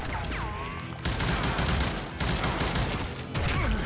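Rapid gunfire from the Western shooter Call of Juarez: Gunslinger, with loud bursts of shots coming in three dense volleys separated by brief gaps and some faint ricochet-like whines.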